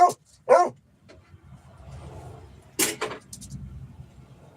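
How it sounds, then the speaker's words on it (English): A dog gives two sharp barks close by, then a quieter stretch with low rumbling, followed by another loud burst of barks. "You don't have to bark so quite so loud."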